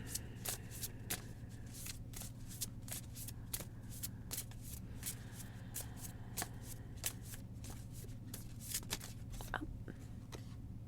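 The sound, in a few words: shuffling a deck of cards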